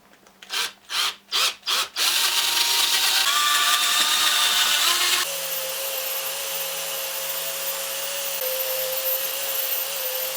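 Loud power-tool whirring and grinding as a drill bores rubber out of metal motorcycle parts, starting with several short bursts, then a steady high-pitched drilling drone that continues on its own.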